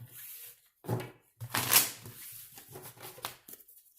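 Tarot cards are shuffled in a few quick bursts of riffling and sliding, close by and fairly quiet, with short pauses between them.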